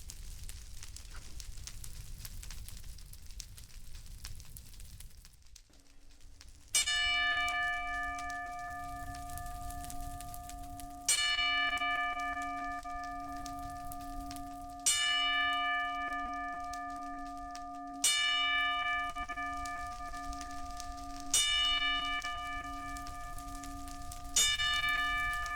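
Six bell strikes toll at steady intervals of roughly four seconds for a ten-bell salute at a wrestling show, each a bright ringing clang that hangs and decays over a low background rumble.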